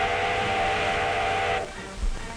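A loud steam train whistle blasts in one sustained, hissing, breathy tone that cuts off abruptly. A low rumble and murmur of steam follow, part of a 1930s rail scene.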